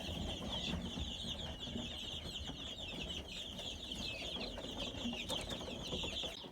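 A flock of young Leghorn chickens and roosters clucks and chirps continuously at close range, with overlapping peeps and occasional louder calls forming a busy coop chatter.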